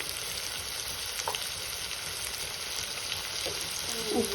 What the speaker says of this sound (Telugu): టమాటాలు వేసి వేయించుకోవాలి బాగా